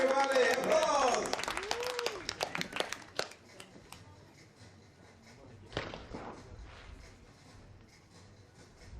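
Spectators applaud at a junior women's and men's trap shooting trio competition, a loud burst of clapping in the first few seconds that quickly thins out, with a commentator talking over it and a few sharp cracks later.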